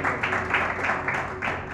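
A church congregation applauds during a communion service, a steady continuous wash of clapping from many hands, moderately loud and fairly even throughout.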